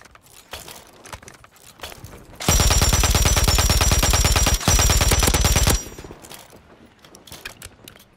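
Bursts of LMG fire in Call of Duty on Rebirth Island: a loud, rapid, sustained stream of shots about three seconds long with one short break, then quieter ambient game noise on each side.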